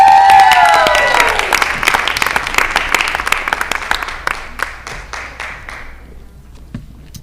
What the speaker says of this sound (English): there's a reason you heard that applause